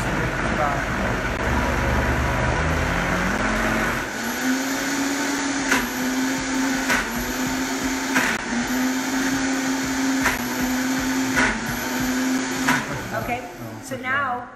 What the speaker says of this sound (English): when you make something thick like this in the Vitamix, this is really common that you have to kind of adjust it and start it